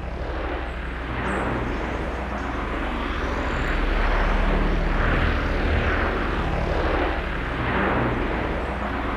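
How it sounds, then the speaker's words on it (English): Glider flying in the Fortnite video game, a loud, steady broadband roar like an airplane taking off, swelling slightly in the middle and holding constant throughout. "I swear to God, my glider sounds like an airplane taking off."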